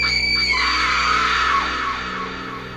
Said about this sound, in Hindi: फिर एक भयानक चीख के साथ माया ने अपने होश खो दिए